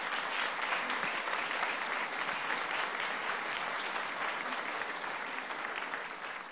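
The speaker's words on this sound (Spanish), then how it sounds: "Un aplauso para ustedes." A large audience at a national tourism award ceremony breaks into sustained applause for the prize winners, a thick, continuous roar of clapping that stays loud and even before easing slightly at the end.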